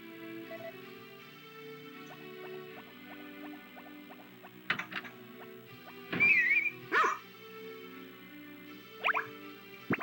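Small yappy dog barks in the Harvest Moon: Back to Nature video game, a few short, sharp yips over soft looping game music, no talking.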